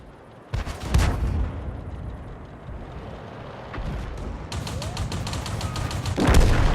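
An artillery gun in World of Tanks gameplay fires in heavy booming blasts: one near the start, a couple of rumbling reports midway and a loud final blast, with rolling echoes between.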